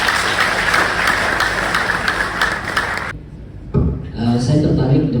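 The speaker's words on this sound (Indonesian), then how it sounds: "Oke, tepuk tangan dulu." An audience at an interfaith dialogue on Judaism, Christianity and Islam claps in a dense, steady burst for about three seconds. It cuts off abruptly, then a voice starts speaking.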